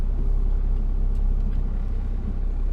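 A 12-valve Cummins truck with a compound turbo setup drives on a rainy day, a steady low engine rumble filling the whole moment with no talk.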